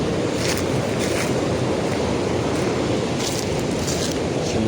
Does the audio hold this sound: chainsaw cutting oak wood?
no